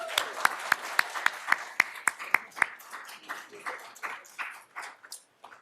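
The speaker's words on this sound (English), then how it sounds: "Let's give them another round of applause." Applause at an awards ceremony: a steady run of about a dozen sharp, rhythmic claps from a few people nearby, thinning and softening into scattered, quieter clapping toward the end.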